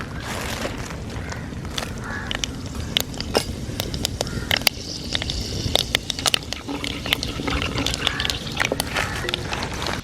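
Mustard seeds and fenugreek splutter in hot oil in a pan, giving a fast, irregular run of sharp pops and crackles over a low bubbling hiss.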